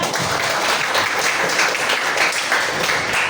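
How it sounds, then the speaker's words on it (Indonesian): Students in an Indonesian civics class applaud together, a steady, dense patter of clapping at moderate loudness, continuous throughout without any voices. "Betul, tepuk tangan."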